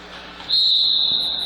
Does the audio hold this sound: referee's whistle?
yes